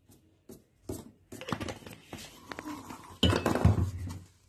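Kids mixing cake batter in a bowl for a pressure-cooker cake, giving a series of close clinks and scrapes of a utensil against the bowl in irregular bursts, growing busier and louder toward the end.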